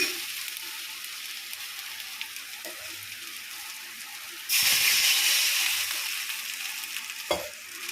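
A chili powder mixture bubbles and hisses in a pan. A steady sizzling hiss swells louder halfway through, with a couple of brief knocks from the pan, and no voices.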